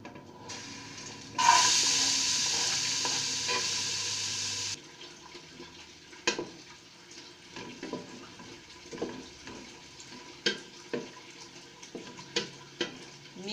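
Chopped medium onion hits a hot pan with a sudden loud sizzle lasting a few seconds, followed by quieter scattered clicks and scrapes of stirring.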